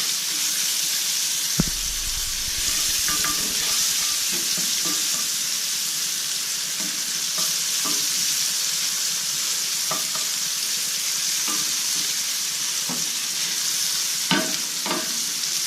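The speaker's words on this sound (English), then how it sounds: "Saute the two together for about a minute or so. You want the mushrooms to start softening up." Mushrooms sauté in a pan with a steady, dense sizzle throughout, broken by occasional soft knocks and scrapes of stirring.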